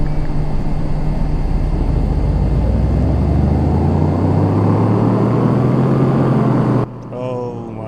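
A Ford Escort engine in Car Mechanic Simulator 2018 revs steadily upward on a dyno, its loud droning pitch climbing for several seconds before cutting off abruptly, followed by a brief quieter tail.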